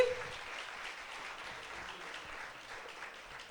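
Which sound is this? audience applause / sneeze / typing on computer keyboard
audience applause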